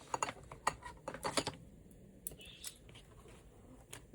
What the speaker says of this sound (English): these are stitched all the way around, so I'm going to go ahead and cut the edge off